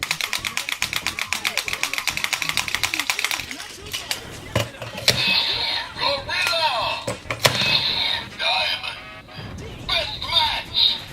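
A Kamen Rider DX Build Driver toy belt plays electronic sounds after Full Bottles are inserted: a rapid rhythmic pulsing beat, then clicks, chirpy effects and jingles, close and loud, with a person talking over parts of it.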